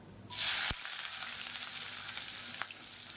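A handful of long-sliced large onion hits hot oil already holding mustard seeds, fennel, cinnamon and cloves for idli kuzhambu. It makes a loud, sudden hiss, then settles into a steady, softer sizzle close by.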